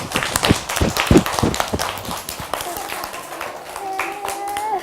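An audience claps for a child on a children's TV programme, giving a burst of close hand claps that fades as a voice continues speaking.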